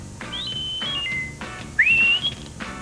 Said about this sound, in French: Au moindre coup de sifflet aigu, il applique.